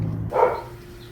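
A single short dog bark from next door, moderately loud and slightly distant, standing alone against a quiet kitchen background.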